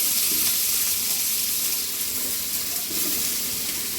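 Sliced onions fry in hot oil in a pan for garlic pepper rice, giving a steady bright sizzle with soft stirring scrapes underneath, close and continuous with no talking.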